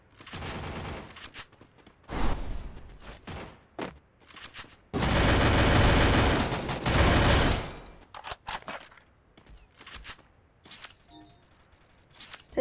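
Gunfire in the mobile shooter Free Fire, with MP5 submachine gun bursts: loud rapid automatic volleys in several clusters, including a long sustained stretch mid-way, separated by brief quieter gaps.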